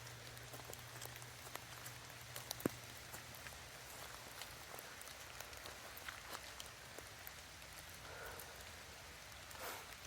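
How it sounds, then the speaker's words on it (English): Steady rain patters outdoors in a rural graveyard setting in Stringtown, Kentucky, a soft continuous wash of drops with occasional louder drips, no talking. "So it is still raining"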